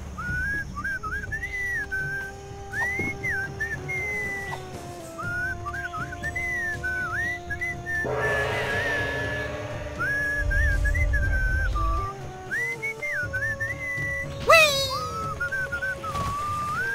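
Melodic whistling in the Sam & Max Beyond Time and Space video game, a bright tune of short warbling phrases with rising slides, over a steady music bed and a brief burst of noisier sound midway.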